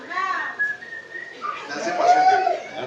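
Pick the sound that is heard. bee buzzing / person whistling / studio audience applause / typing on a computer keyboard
person whistling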